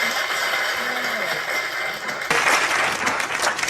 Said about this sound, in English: Oh, another cheer for Donald.